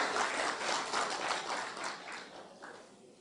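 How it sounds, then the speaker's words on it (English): Crowd applause for a county commissioner and council at a parkway construction meeting, a steady broadband clatter of many hands that holds for about three seconds and then begins to thin and fade. "Give her a round of applause and our council a round of applause."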